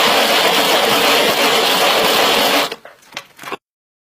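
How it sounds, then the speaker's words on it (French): A small electric mixer whips egg whites into stiff peaks for a cheese soufflé, giving a loud, steady whirring buzz for over two seconds, then a few sputtering bursts as it slows and stops. "je prépare mes blancs pour les monter en neige. Grâce un petit appareil fort judicieux"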